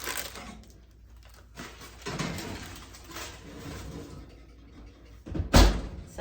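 A covered bread pot slides into a home oven set to 450 degrees, and the oven door closes with a single firm thunk near the end, after a few softer bumps and rustles.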